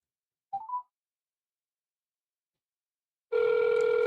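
A short electronic chirp, silence, then a telephone ring tone starts loud and steady after dialing, as if heard over a call line.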